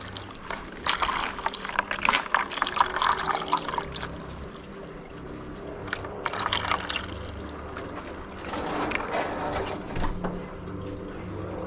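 Water pours and trickles in uneven bursts, splashing into plant containers close by, with some handling noise in between.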